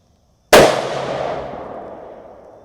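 A single sharp, loud gunshot from a Bergara B14 Ridge bolt-action rifle in 6.5 Creedmoor, fired outdoors at a range, with a long rolling echo that fades over two seconds.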